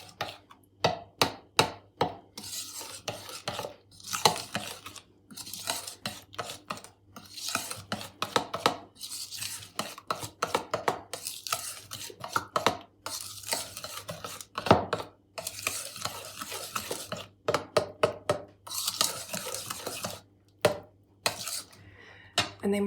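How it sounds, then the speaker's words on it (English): Batter being stirred by hand as flour is mixed into a quick fruitcake mix, with repeated scraping and spoon knocks against a bowl in uneven bursts, close and fairly loud, no talking. "A little bit of flour. Give that a nice mix."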